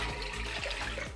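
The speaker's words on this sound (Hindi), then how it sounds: "सबसे पहले मैं एक बर्तन लूँगी और इसमें 3 कप ठंडा पानी डालूँगी।" Three cups of ice-cold water pour into a cooking pot for Kashmiri pink tea, a brief, close, steady splashing gush heard alone without talk.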